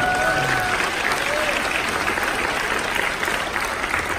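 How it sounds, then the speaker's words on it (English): Audience applause at a live training seminar on stage, steady sustained clapping from a large crowd filling the whole stretch at even loudness, with no speech over it. "Let's give God a big round of applause."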